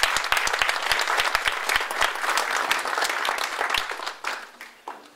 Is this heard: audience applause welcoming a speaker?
yes